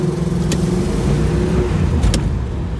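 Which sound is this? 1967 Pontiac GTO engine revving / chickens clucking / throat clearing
1967 Pontiac GTO engine revving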